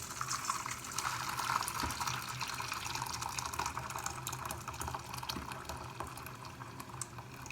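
Hot water pours steadily into a cup for an herbal tea made with turmeric, a continuous close splashing and filling sound with no talking.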